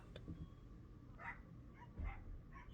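A dog outdoors gives a few faint, distant yips and barks at irregular moments over quiet background noise.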